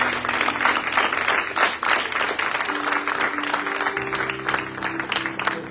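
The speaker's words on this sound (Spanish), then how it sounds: "Dale un aplauso al Señor." At an Easter church service, a congregation applauds with loud, continuous clapping throughout, while a low sustained tone sits underneath.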